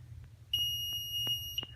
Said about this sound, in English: so I put a piezo buzzer there